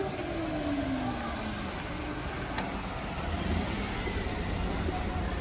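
A car pulls away after a repair, its engine tone sliding down through a gear change into a steady road drone, with faint speech underneath.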